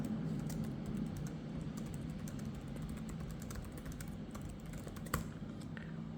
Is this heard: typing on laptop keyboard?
yes